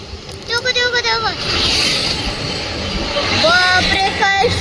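A train approaches along a track beside clear water near the Ekvira temple area, its rumble rising under loud, excited shouting and whooping from a nearby crowd.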